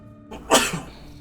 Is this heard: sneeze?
yes